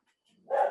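A dog outdoors lets out a single short bark, brief and moderately loud at a slight distance.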